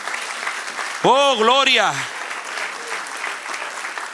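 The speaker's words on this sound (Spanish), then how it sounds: "Dale un aplauso al que reina." Congregation applause at a church sermon runs throughout, with a voice briefly singing or calling out a praise over the clapping near the middle.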